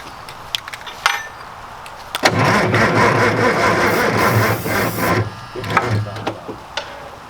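A Mack truck engine cranking over on a weak battery, a few scattered clicks and then a sustained, labored churning crank of several seconds, followed by more clicks.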